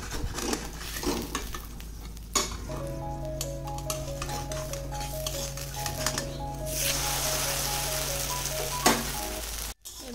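Food fries in a pan of hot oil, a steady close sizzle with occasional utensil stirring and pressing sounds throughout, and no speech.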